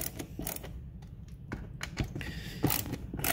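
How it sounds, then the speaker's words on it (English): Phillips screws loosened from a 3D printed plastic part, a series of close, quiet creaking clicks and plastic ticks at an irregular pace. "I'm just going for the remaining screws, which are the Phillips screws."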